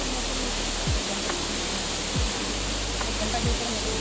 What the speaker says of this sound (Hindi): वहाँ से पानी आ रहा है, उसमें पानी।